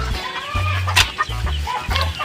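Hens in a nest box under a corrugated metal sheet give a series of low, throaty clucks in short bursts with brief pauses, close and moderately loud, with no talk.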